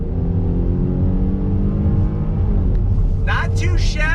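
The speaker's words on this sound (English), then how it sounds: "let's go ahead and see what the acceleration is like in this V6" A 2020 Dodge Durango GT V6 SUV pulls away from a light under throttle, its engine droning steadily with rising harmonics heard from inside the cabin.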